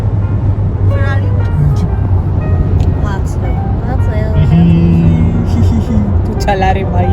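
A Ferrari engine hums steadily from inside the car while driving on the road, a continuous low rumble with road noise beneath people talking throughout.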